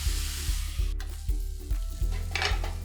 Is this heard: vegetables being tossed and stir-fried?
yes